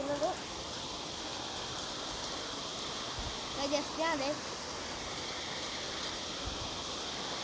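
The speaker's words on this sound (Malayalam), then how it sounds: "നല്ല മഴയാണ് ഗൈസ് കേട്ടോ." Heavy rain makes a steady, broad hiss that fills the whole clip. A person speaks briefly in the middle over the downpour.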